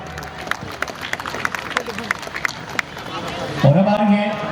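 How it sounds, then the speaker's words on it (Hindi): Applause and clapping from a crowd at a prize distribution ceremony after a football final in Gumla, a dense crackling patter with scattered sharper claps, followed by a voice over a loudspeaker near the end. "एक बार जोरदार ताली बजा दो यार"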